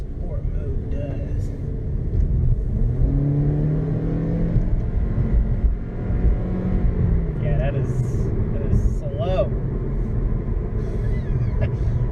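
A 2018 Toyota Corolla drives along, its engine humming and rising in a steady low rumble as it accelerates, with a person talking over the cabin noise.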